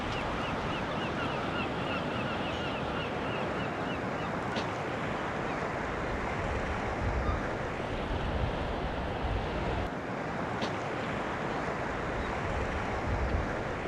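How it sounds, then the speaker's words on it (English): Steady wind gusting across the coast at Shaldon near sandstone cliffs and the beach, a constant broadband roar buffeting the microphone with no letup, surf mixed into the wash. "it's getting a bit windy"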